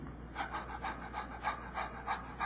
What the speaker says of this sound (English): most people's normal breathing.